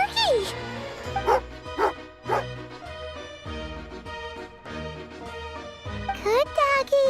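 A dog in the Genshin Impact video game gives several short barks and yips over music, the calls bright and close, spaced across the clip.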